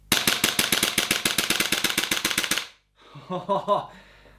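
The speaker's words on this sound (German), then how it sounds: "Kann man richtig schnelle Schussfolgen mitmachen." Beretta PMX gas blowback airsoft gun by Umarex/KWA firing a rapid burst of about twenty sharp, evenly spaced shots close up, then a short pause followed by a brief mechanical rattle and clatter.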